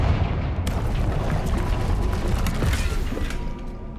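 A Confringo spell blast in Hogwarts Legacy, a loud fiery burst with crackling, rumbling debris that sustains evenly for several seconds before tailing off.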